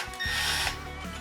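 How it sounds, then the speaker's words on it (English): A power drill whirs briefly and steadily up close, boring through an existing hole in a motorcycle engine's oil pump case, a short mechanical run that tapers off, with no voices. "we'll just let the drill follow the hole"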